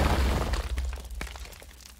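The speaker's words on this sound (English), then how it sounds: "we do want that initial impact sound to carry on for a bit longer" Explosion impact sound effect opens with a loud, crunching shattering burst that decays into a rumbling echo and scattered debris-like crackles over about two seconds.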